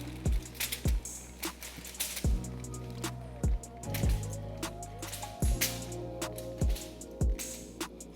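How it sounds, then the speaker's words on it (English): A seafood boil is poured out with wet squelching slops and repeated heavy thuds as the food drops out, close and fairly loud, with no talk. "First pour out, seafood boil, man."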